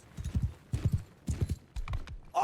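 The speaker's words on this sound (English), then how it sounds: "Their horse cavalry, their horse infantry is coming." Cavalry horses gallop across a battlefield in the video game Mount & Blade II: Bannerlord, their hooves pounding in four loud, rhythmic bursts of clip-clop with no talk over them.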